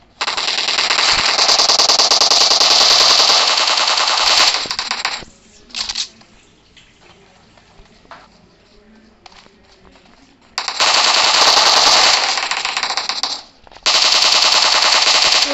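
Scar-L and M416 rifle fire in the video game PUBG: long, loud full-auto bursts of rapid shots, broken by quieter gaps with faint background sound and a few single shots, with speech faintly underneath.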